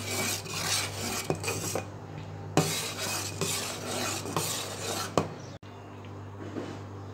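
Jaggery for Bengali kheer being pushed and stirred through a metal sieve, giving continuous scraping and rasping with occasional clinks of utensil on metal, fairly close and steady, with no talking.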